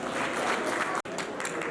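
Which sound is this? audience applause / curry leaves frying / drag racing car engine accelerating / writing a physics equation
audience applause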